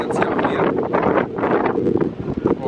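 Strong sea wind on the coast of Texel buffeting the microphone with a loud, continuous roar that swells and gusts throughout.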